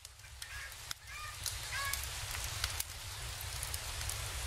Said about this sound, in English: You hear that chicken?